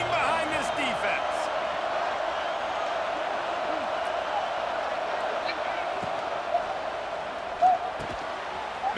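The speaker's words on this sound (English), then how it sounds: "this crowd is getting behind this defense" A stadium crowd at a Clemson versus Florida college football game roars steadily behind the defense on a third down in the red zone, a dense continuous wash of noise with faint shouts rising through it.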